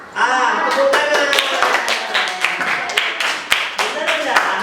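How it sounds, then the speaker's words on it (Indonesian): Children in a classroom clap their hands in a quick, uneven burst of sharp, close claps, with voices mixed in at the start. "tepuk tangan"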